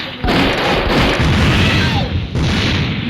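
A time bomb explodes in the mobile shooter game Mini Militia, with loud, heavy booms that burst in near the start and again after a short lull, crackling and rumbling between them.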